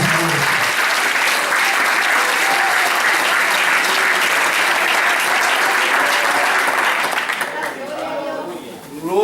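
A church congregation applauds during a sermon, loud sustained clapping from many hands lasting several seconds, then tapering off as voices and talk come through at the end.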